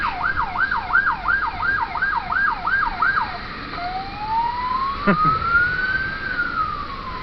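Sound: emergency siren passing, likely a fire truck

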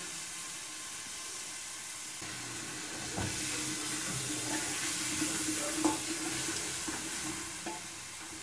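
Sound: garlic and onion frying in a pan

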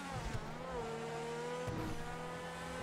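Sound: sports car engine in video game

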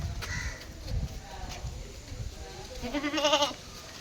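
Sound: goat kid bleating

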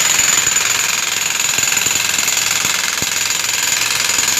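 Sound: backhoe breaking up old concrete pond floor and walls

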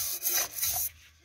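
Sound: scraper rubbing rust off cast iron

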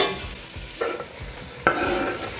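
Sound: stirring onion and sausage frying in a pot

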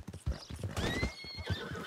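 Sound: horse hooves clip-clop, from a video game

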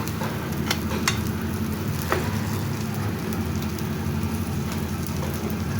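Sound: pumpkin leaf fritters frying in oil

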